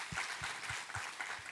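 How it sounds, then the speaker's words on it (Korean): A church congregation claps during a worship service, producing faint, evenly spaced claps in a steady rhythm of roughly three or four per second that sound distant and low. "우리 하나님께 감사와 영광의 박수 올려드리겠습니다."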